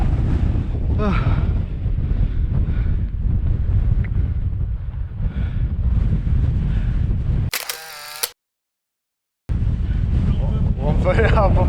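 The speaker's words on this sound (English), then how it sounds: "Very windy." Strong wind on exposed Welsh coastal cliffs near St David's Head buffets the microphone with a constant roaring rumble, briefly broken by a high electronic chirp and a moment of silence before the gusts return.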